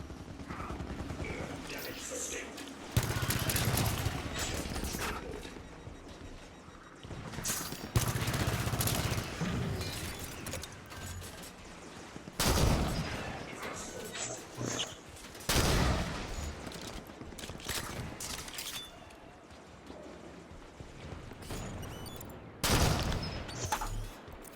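Turrets open fire in the Halo 5 campaign, with repeated bursts of rapid gunfire and booming volleys breaking through a constant battle din, spaced every few seconds across a long, chaotic stretch.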